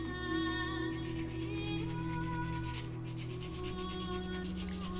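The inside edge of a ring band is being beveled, giving a steady, close rubbing and sanding drone with a constant machine hum underneath. No one speaks.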